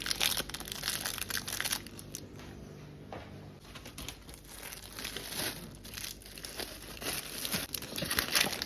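A plastic sachet is crumpled and handled at close range, crisp crackling and crinkling bursts coming in irregular clusters, louder at the start and end with quieter rustling between.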